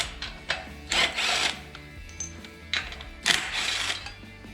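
A crank holder comes off a 212 Ghost engine with close metallic clinks, rattles and short scraping bursts in irregular bunches, no voices.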